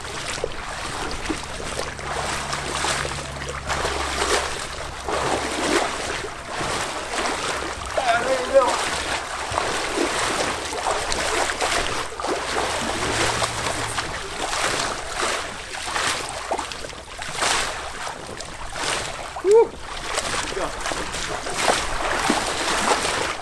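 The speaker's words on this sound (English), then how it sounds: "Make a big tidal wave in a small swimming pool." Water sloshes and splashes in a small swimming pool as someone builds a large wave by rocking in rhythm, a continuous surging wash with occasional louder slaps.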